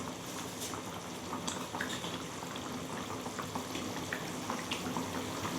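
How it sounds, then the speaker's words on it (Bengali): A fish roe curry gravy with pointed gourd and potato bubbles and simmers in a pot, giving a steady close hiss with scattered soft pops and gurgles. "দেখো ঝোলটা ফুটে উঠেছে"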